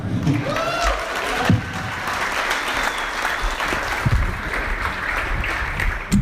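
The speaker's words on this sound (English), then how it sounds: "I hope you enjoyed hearing the crowd a little bit in there" Live comedy club audience applauding steadily after a stand-up set, a dense continuous clatter of clapping with a few cheers and whoops rising through it, loud and close for the whole stretch.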